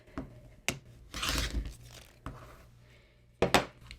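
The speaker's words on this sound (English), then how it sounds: "And then I'll just trim this side." Quilt block fabric being trimmed along a ruler: a few short, sharp cutting strokes and scrapes, close and fairly quiet, with a longer rasping pass in the middle and two crisp cuts near the end.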